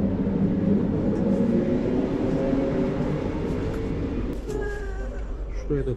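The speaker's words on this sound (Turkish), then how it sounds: "Yavaştan tren de kalkacak." A Sarajevo–Mostar passenger train pulls away, its steady low rumble and rolling rattle filling the space; a brief squeal and clanking accents appear near the end.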